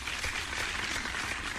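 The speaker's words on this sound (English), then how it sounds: "Oh, you wanted a real round of applause." A short burst of audience applause, a steady patter of many hands clapping at moderate volume for under two seconds with no talking.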